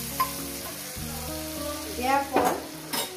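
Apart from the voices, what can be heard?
spice water added to frying fish, sizzling in pan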